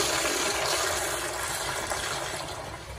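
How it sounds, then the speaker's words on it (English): Madeira flushometer toilet flushing at full pressure, a loud, steady rushing gush of water that holds throughout and only eases slightly toward the end. "I'm going to give some flushes the Madeira"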